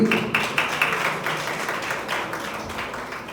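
Audience clapping at an anniversary celebration as a prize winner, a class 5 student placing first in the annual exam, is called up; scattered close claps blend into steady moderate applause that holds for the whole stretch.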